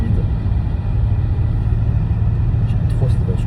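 An Audi RS7 C8 pulls forward with a smooth, steady low engine drone heard from inside the cabin, with people talking over it.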